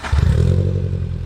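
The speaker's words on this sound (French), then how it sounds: "Au niveau de la sonorité voilà ce que ça donne les amis quand tu démarres." A Japanese car engine starts up with a raspy, rough exhaust note, loud and close, with a low rumbling burble throughout the short burst.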